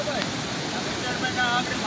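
Fast-flowing water from a monsoon-swollen waterfall in Kutch rushes in a steady, broadband roar during heavy rain, close by and constant, with faint voices mixed in.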